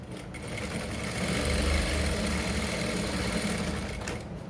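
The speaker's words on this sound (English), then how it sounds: "From here, sew it down." A sewing machine stitches down a single welt pocket, its motor whirring in a steady, close, continuous run that swells slightly midway and eases off near the end.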